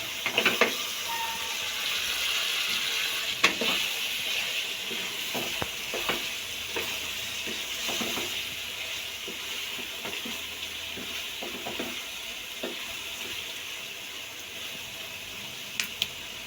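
A pan of aloo matar gajar curry with garam masala stirred over steady sizzling and frying, with scattered spoon scrapes and taps against the pan close up, continuous and fairly loud throughout.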